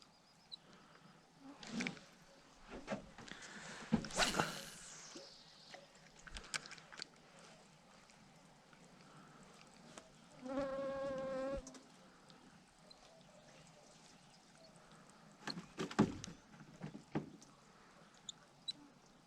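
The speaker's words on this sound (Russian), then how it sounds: "Только комаров много." Mosquitoes buzzing outdoors on a summer fishing trip by the water: a close, whining buzz drifts past midway, among scattered rustles, knocks and handling noises, with no talking.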